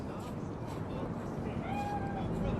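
A cat in Cyberpunk 2077's Night City gives a faint, short meow partway through, heard beneath a voice talking over a low ambient background.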